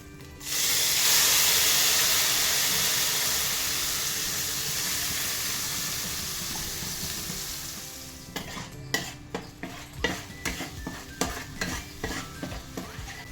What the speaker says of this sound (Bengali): ওই তেলের মধ্যেই কালো জিরে একটু ফোড়ন দিয়ে দিলাম, দিয়ে দিচ্ছি সেই পেস্টটা